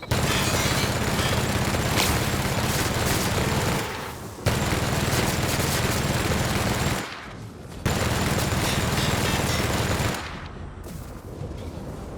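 Sustained automatic gunfire from a weapon in the video game The Outer Worlds, loud and dense in long continuous bursts separated by brief pauses.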